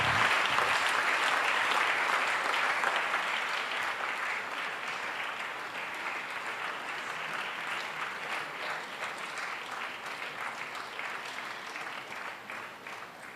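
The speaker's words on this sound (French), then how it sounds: "Let's clap this victory." A church congregation at a Sunday worship service in Abidjan claps together in sustained, dense applause, loud at first and gradually tapering off, with no speech over it.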